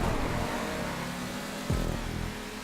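The Infernus supercar in GTA 5 drones with a steady engine note, then revs sharply upward partway through, heard close under a constant broadband roar.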